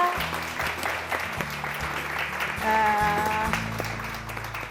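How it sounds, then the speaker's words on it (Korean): Church audience applauding to welcome a pregnant congregant called up front, clapping steady and moderately loud across the clip, with a host speaking briefly over it and music playing underneath. "어서 오세요. 박수 부탁드립니다."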